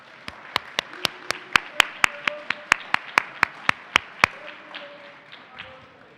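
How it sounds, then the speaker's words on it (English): Sparse applause from a small audience at a technology summit session, about twenty distinct claps in a steady rhythm that stop abruptly, followed by quieter room noise and faint murmuring. "And let's give a round of applause."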